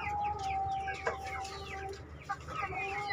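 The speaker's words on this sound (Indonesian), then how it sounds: "30-an ayam" Chickens cluck softly in a coop where about thirty young birds are being raised. Short, irregular calls rise and fall over a low background hum, with a few sharper accents.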